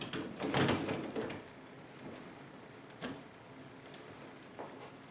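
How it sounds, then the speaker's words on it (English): A bypass sliding closet door is tilted and its rollers are hooked onto the overhead track: a few soft clunks and scrapes, strongest at the start, followed by quieter knocks in a near-silent room. "you need to go at least a 15 to 20 degree angle to hook these gears or the rollers onto the channel itself"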